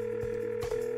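A telephone in a video game gives a steady electronic dial tone, short, clear and close.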